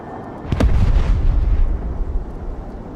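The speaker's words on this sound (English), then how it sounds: "Airstrike is go for effect." Airstrike explosions in the video game Broken Arrow: a loud, deep booming blast with a sharp crack at the onset, followed by a rumbling roll that fades slowly.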